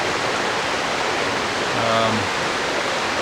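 Steady broadband rush of a stream flowing through autumn woodland on Dartmoor, constant and fairly loud throughout, with a brief faint tonal hum midway and no speech.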